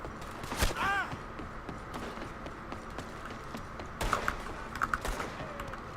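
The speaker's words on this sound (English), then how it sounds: "let's do that while there's gunfire going on" Gunfire rings out in the video game Red Dead Redemption 2, a few sharp distant cracks scattered over busy in-game ambience with footsteps and clatter, with no speech.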